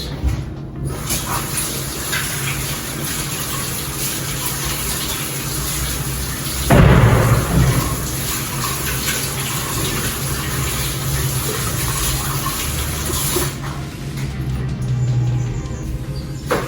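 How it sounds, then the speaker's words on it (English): Steady running tap water with hands being washed beneath it while making chapati dough, a continuous broadband rush with a brief louder splash partway through, close and alone without talk. "let me wash my hands"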